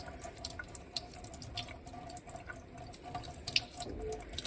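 Acrylic paint brushes rinsed under a running tap into a sink, steady splashing water with small drips and clinks, close and continuous without talk.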